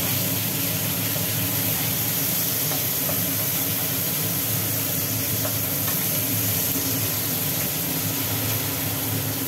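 Onion and tomato sizzle steadily in a pan with salt while being stirred, a dense continuous hiss of frying close up, with no talking.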